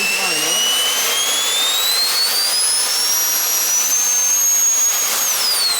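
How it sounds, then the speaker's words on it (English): An electric ducted fan on a 3D-printed RC Harrier runs under a battery and ESC stress test, giving a loud continuous whine with rising and falling high-pitched tones over a steady airy roar before cutting off abruptly. "After this last stress test for the battery, the ESC and even the EDF"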